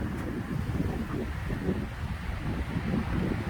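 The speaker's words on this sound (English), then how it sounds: "it's kind of windy today" Wind buffets an outdoor microphone in a steady, rumbling roar that stays loud throughout, with no talking over it.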